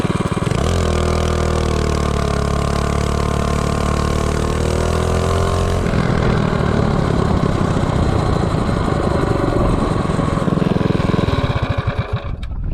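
A 212 Ghost minibike fitted with a Noram Cheetah clutch and a 4.61 ratio accelerates from 0 to 30. Its small engine revs up loud and close, climbing steadily in pitch before the clutch engages, then holds a harsh, rising drone.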